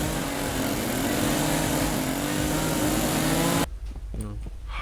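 A chainsaw engine runs at a steady high drone for several seconds, loud and continuous, then cuts off abruptly, leaving quieter background sounds.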